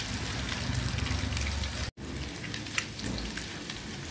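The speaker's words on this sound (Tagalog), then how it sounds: "Prito lang natin ng kaunti." Kangkong adobo sizzles and crackles steadily in a hot pan, a dense frying hiss with a brief cutout partway through, no talking.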